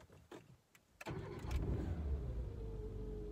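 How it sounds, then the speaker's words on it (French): A car's starter motor whirs in short cranking bursts before the engine catches at about one second and settles into a loud, steady run, close by with no talk; the starter is faulty and due for replacement. "Et voilà le bruit du démarreur."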